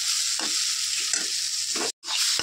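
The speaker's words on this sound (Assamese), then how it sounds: "খাৰ দি অকণমান লৰাই দিছোঁ" Food stirred in a pot after adding khar, in a fish-head dish: a few scraping stirs against the pan over a continuous close sizzle.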